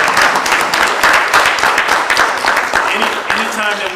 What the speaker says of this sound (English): We can go ahead and give them a round of applause